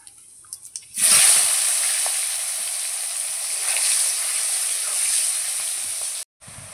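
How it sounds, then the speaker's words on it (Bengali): Chopped onion dropped into hot oil with bay leaf and cumin in a village kitchen, a sudden loud sizzle that settles into a steady hiss for several seconds before cutting off. "এবার ফোড়নে দেব তেজপাতা, জিরে। এবার দিয়ে দেবো পেঁয়াজ কুচি।"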